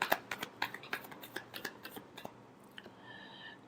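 Tarot cards being shuffled in a final shuffle during a reading, a quick run of crisp flicking and riffling taps that slows into softer brushing near the end, close and fairly quiet with no talking.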